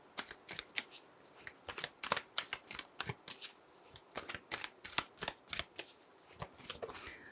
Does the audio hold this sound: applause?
no